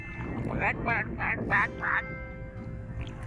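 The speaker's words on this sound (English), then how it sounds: "Some wild ducks." Wild ducks quack in repeated bursts on a lake, several close calls over a steady background hum.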